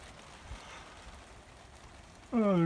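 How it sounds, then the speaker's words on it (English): Evening rain falls steadily on a hayfield as a soft, even hiss, with a short tonal sound near the end. "Rain's starting to heavier now."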